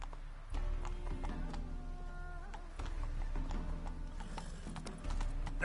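Roach, the horse in the Witcher 3 video game, gallops with a loud, steady rhythm of clip-clopping hoofbeats, carrying on across the whole stretch with slight surges in intensity and no talk over it.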